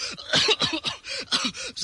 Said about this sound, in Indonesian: saya sakit batuk, Pak.